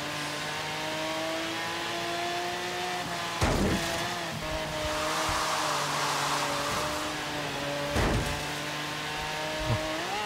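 Simulated racing engines from a Ford GT and a Ferrari 488 GTB in the Forza Horizon 3 video game, revving and holding a steady high drone with shifting pitch and a couple of brief bursts, loud and continuous without talk.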